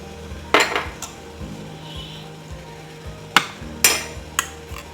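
A spoon knocks and clinks against a bowl while chocolate ingredients such as milk powder and sugar are mixed, with a few sharp scraping and tapping bursts spaced irregularly over a quiet background.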